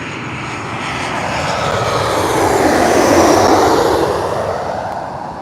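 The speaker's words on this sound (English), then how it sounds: "a decent landing from Rex" A Rex airliner lands at Gold Coast airport on a wet morning, its engine roar swelling to a loud, broad peak mid-way and then easing off, steady and continuous with no voices.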